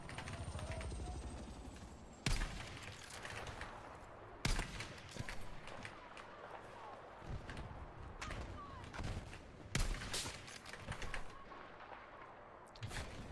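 Sniper rifle gunfire in Battlefield 1, several sharp, loud shots spaced seconds apart over a busy battlefield background of distant fire and ambient noise.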